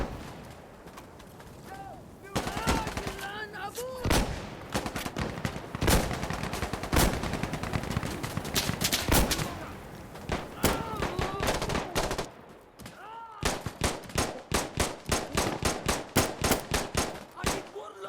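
Gunfire in the tactical shooter game Insurgency: Sandstorm, dense bursts of automatic rifle fire and heavy reports, loud and close, ending in a rapid rhythmic string of shots, with players talking now and then.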